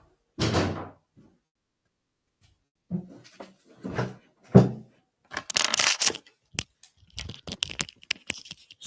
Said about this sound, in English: Little knock at the door there, unexpected.